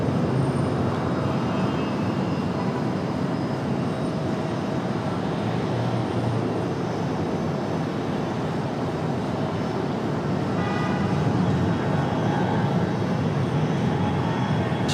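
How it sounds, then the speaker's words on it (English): A loud, continuous roar of a Boeing 777's Rolls-Royce Trent jet engines powering up at an airport, a broad rumbling rush with a rising whine, sustained and fairly close. "We'll have another crank it up moment so you guys can hear the power of the 777 Trents."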